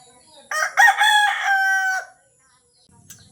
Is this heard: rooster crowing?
yes